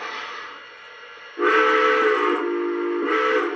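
A model train steam whistle on a Lionel New York Central Dreyfuss Hudson sounds in a steady tone, then blows two louder, fuller blasts, the second short, ringing clearly up close.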